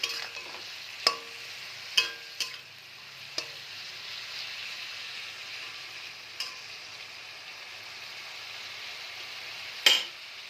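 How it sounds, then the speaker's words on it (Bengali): Spices with cumin powder being stirred in a pan for lau ghonto, a soft low sizzle with a handful of sharp spoon taps against the pan. "এবার আমি একটু নেড়ে নেব"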